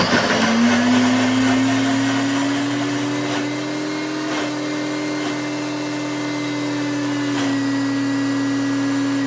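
A kitchen blender runs on its turbo setting with a loud, steady motor whine that holds its pitch throughout, with a few faint clicks and no talk.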